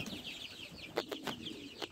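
Chickens clucking inside a poultry cage on a farm during cold winter weather, soft scattered clucks and chirps with a few sharper calls near the end, fairly faint and close.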